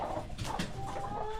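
A broody hen clucks softly in a coop, a few brief low clucks and faint bird sounds close by but quiet, without speech.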